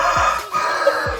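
A chicken clucks and crows from a coop beside a small room in an old renovated family home, repeated short calls rising over a steady background hum, moderately close.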